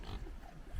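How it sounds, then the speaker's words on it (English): Pigs on a farm along a walking route from Ollantaytambo toward Machu Picchu in Peru, grunting and oinking close by in a short, low burst. "So there's some pigs."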